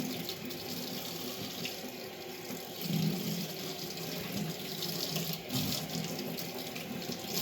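Water runs steadily from a tap into a sink for a pre-scrub hand rinse, a constant close hiss and splash with slight shifts as hands move under the stream.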